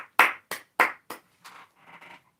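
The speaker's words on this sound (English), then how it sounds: "Everyone give Mike a round of applause." A few people clap in a small, indoor-sounding group, giving about five sharp, close claps in an uneven rhythm before it fades into softer, scattered clapping.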